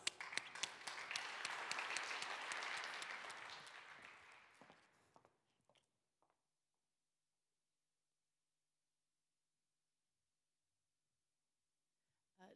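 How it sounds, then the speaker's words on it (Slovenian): Audience applause at a Slovenian wood-industry conference, welcoming a speaker to the stage; a dense crowd clapping that swells, then fades out over about five seconds, leaving silence. "Velik aplavz."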